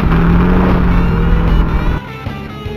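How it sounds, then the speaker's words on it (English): Race car engines fire up together in NASCAR 2000 on Nintendo 64, a loud dense roar that holds steady and then drops to a lower rumble. "Drivers, start your engines."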